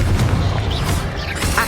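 Bombarda blasting spell in Hogwarts Legacy, a booming explosion with a rumbling low-end tail, loud and continuous through the moment, joined by a brighter burst near the end.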